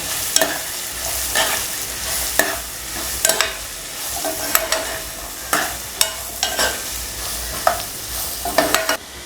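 Guava pieces with turmeric and salt are stirred in a pan for a sweet-sour pickle, giving close, irregular scraping strokes and clatters over a soft sizzle.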